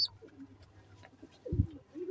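Domestic pigeons at a loft cooing softly near their nest and chicks, with low murmuring coos and a louder throaty coo midway, fairly close and calm.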